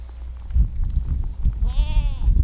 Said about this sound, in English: the goats are actually playing with Megatron now instead of hurting him